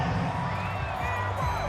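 Continuous roar of a stadium crowd in the football game Madden NFL 22, steady and fairly loud, cheering at a home game as an offensive line struggles.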